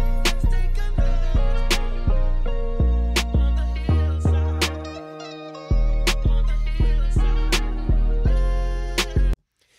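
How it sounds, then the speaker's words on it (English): Booming 808 bass notes in a mixed hip-hop track, struck in a regular rhythm with long sliding decays under sharp percussive hits, with a brief gap in the pattern near the middle and an abrupt cutoff at the end. "And then of course lastly we have the 808."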